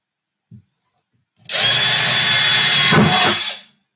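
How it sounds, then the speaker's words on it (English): A power drill bores a hole into the body of a Stretton Payne D1 acoustic guitar, preceded by a faint tap. It then gives one loud, close, steady whine of about two seconds, with a slight change in pitch near the end. "where's my drill?"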